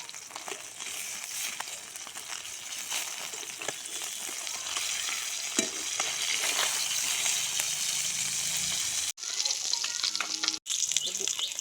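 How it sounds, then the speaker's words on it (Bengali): Fish fries lightly in oil, a dense, close sizzle with crackles and occasional stirring scrapes, running continuously with two brief cuts near the end and no talk. "তেল, মাছ একটু ভাজিয়ে নেবো হালকা করে।"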